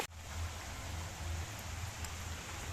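Soft rain falls steadily over a village, a faint even hiss with a low hum underneath and no voices.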